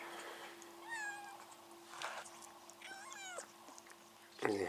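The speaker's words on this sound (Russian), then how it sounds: "И прям и мяу-мяу-мяу. Мяу-мяу-мяу." A cat meows three times in rising, wavering cries, close and moderately loud over a faint steady hum, then a short sharp noise at the end.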